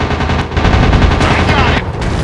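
Rapid machine-gun fire from a WW2 fighter plane in a mobile dogfight video game, a dense continuous burst of loud rattling shots over engine drone, steady for about two seconds.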